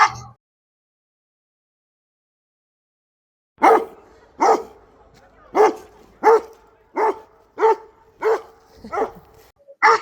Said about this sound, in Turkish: Bir de köpeği göstereyim madem öyleyse